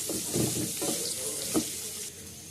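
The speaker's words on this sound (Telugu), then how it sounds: "beetroot ten to fifteen minutes బాగా ఫ్రై చేయాలండి" Beetroot fries in a pan with a steady, moderate sizzle, broken by a few soft scrapes and clatters as it is stirred, with no one talking.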